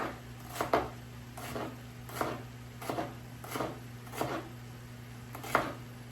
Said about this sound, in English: I can even cut these again. Cut them again.